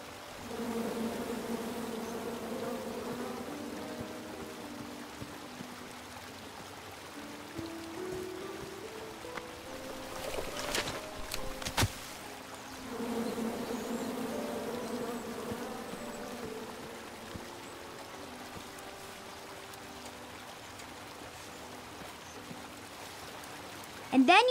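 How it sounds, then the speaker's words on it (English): Angry bees in King's Quest drone in a steady, wavering buzz whose pitch slides up and down, broken midway by a few sharp clicks and bursts, with some quiet speech mixed in. "Come at me, bees!"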